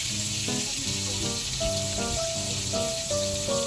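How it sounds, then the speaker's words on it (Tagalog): Steady, loud sizzling of fish frying in oil, with a faint tonal hum and soft melodic notes in the background. "May narinig po kayong ingay kasi nagpiprito po ako ng isda doon sa kabila"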